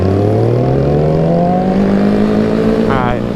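A loud Honda Grom motorcycle engine revs steadily with rising pitch, close and continuous, with a brief higher whine near the end.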